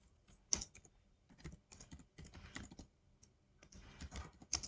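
Typing on a computer keyboard while writing C code, a quiet run of uneven clicking keystrokes in bursts with short pauses, no talk.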